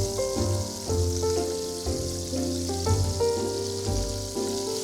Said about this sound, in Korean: 기름을 많이 안 쓰고 그냥 반 정도만 쓰고 튀기듯이 굽듯이 좀 지금 진행하고 있어요